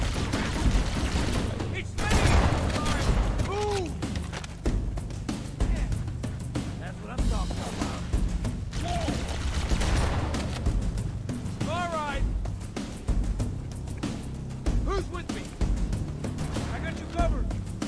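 Shotgun blasts and gunfire ring out in Halo: Combat Evolved Anniversary amid a busy firefight, with repeated bursts and explosions under steady overlapping game action and player talk.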